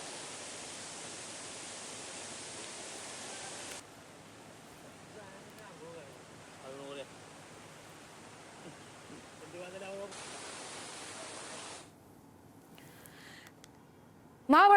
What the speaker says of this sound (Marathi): हा धबधबा वर्षा पर्यटनासाठी प्रमुख आकर्षण ठरतोय